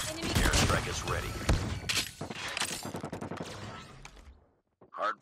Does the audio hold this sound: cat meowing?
no